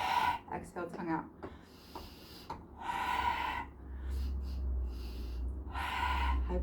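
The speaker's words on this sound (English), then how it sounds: "This is lion breath" Forceful yogic lion-breath exhalations with the tongue out, done seated in Sukhasana, come as several breathy gasping huffs between inhales over a low background rumble, with brief talk between them.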